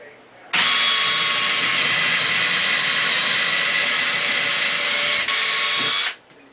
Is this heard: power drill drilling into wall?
yes